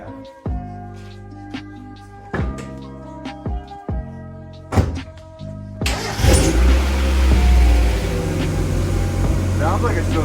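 A Mazda Miata, laid up with an oil leak and a likely weak battery, starts after a few uneven cranking clunks and settles into a loud, steady idle close by.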